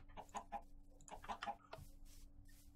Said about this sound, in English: Listen. Oh, yeah, look at these chickens.